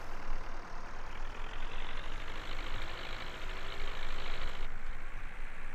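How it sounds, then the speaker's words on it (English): A tractor engine in Farming Simulator 19 idles with a loud, steady rumbling drone, close by and unbroken, no voices. "It's so loud when you're outside the tractor."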